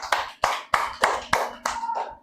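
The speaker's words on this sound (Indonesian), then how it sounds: "tepuk tangan buat Miti." A small class of students clap for a classmate, about six sharp, evenly spaced group claps roughly every third of a second, close and clear, ending in a brief looser flurry.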